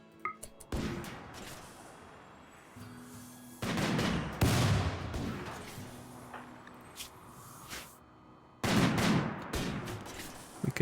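Gunfire in the RimWorld video game: bursts of rapid shots and crackling fire in three loud clusters separated by quieter stretches of scattered shots, with no voices.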